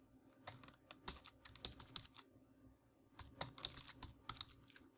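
Quiet typing on a computer keyboard with irregular bursts of key clicks, a pause, then more tapping, close to the microphone and with no voices.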